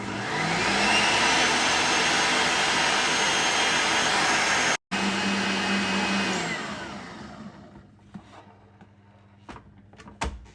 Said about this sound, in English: you want to whisk the sugars and the eggs together until they're all nice and creamy and fluffy on fast